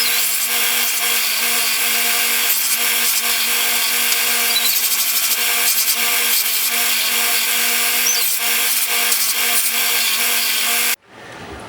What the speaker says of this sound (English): Now I'm just going to sand them with my belt sander.